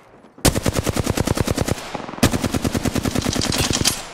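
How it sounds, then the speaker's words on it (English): Rapid automatic gunfire in a video game firefight, two long loud bursts of closely spaced shots separated by a brief pause. "I am taking fire, friends."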